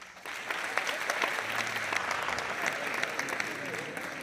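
An audience at a stand-up comedy show claps together in sustained applause, a dense steady patter of many hands filling the room.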